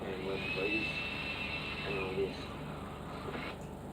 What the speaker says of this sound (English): On the road with the blower.